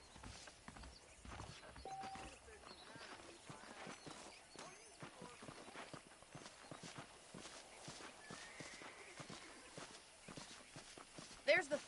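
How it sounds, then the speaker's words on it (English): Horse hooves clip-clop at a walking pace in the Red Dead Redemption video game, steady and moderately close beneath a continuous bed of game ambience and talk. "The horses are saddled up over here"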